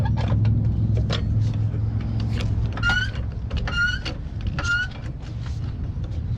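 A jack lifts a Buick Lacrosse by the pinch weld, giving a low whirring motor hum under repeated ratcheting clicks and several rising squeaky strokes, close and steady with no talk.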